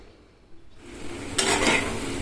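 Eggs frying in oil in a home kitchen pan with onion, tomato, cumin, coriander and turmeric powder, a quiet stretch giving way to louder close sizzling with stirring scrapes in the second half.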